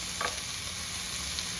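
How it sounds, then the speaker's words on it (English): Steak and chicken flipped in a hot pan for keto cauliflower rice bowls, a steady bright sizzle with a brief clatter as the meat is turned near the start, with no talking. "Give our meat a little flip there."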